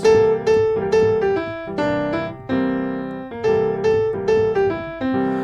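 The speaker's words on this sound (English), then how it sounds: "if I just play these different notes of the major pentatonic over the one chord" Bright guitar-like single notes of the major pentatonic scale pick out a melody over a sustained one chord, plucked in a steady relaxed rhythm, clear and close.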